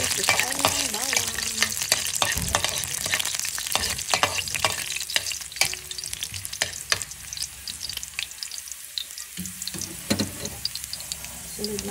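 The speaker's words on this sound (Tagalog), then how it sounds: "Isain ng bawang." Garlic sizzling and frying in a pan for a coconut-milk string bean dish, a loud continuous crackle with stirring scrapes throughout and no talking.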